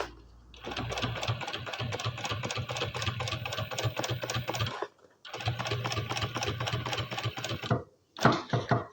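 A sewing machine stitches a handbag in two long runs of rapid, even needle strokes, pausing briefly between bursts and ending with a short final run, close and steady with no talk.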